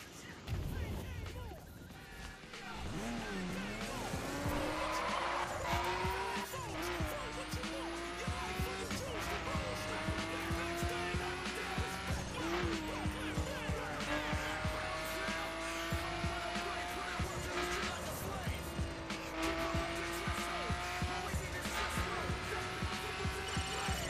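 Cars racing in the video game The Crew, engines droning steadily throughout with repeated tire squeals and skids rising over the roar, loud and continuous with music or voices mixed underneath.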